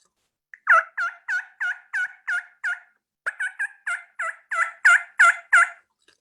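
A series of raspy, rhythmic yelps from a turkey call mimicking a hen coming down from the roost, in two quick runs separated by a short pause, during turkey hunting in Colorado.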